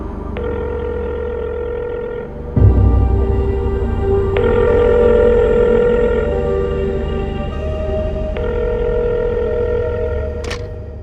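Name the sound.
telephone ringing in a film scene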